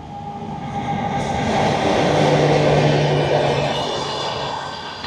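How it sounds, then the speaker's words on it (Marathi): A train passes on the railway track beside a beachside villa near Dahanu, a loud, steady rolling rumble with a faint horn tone that swells and fades over a few seconds, with no talking. "तर इकडून अशी ट्रेन पास होते."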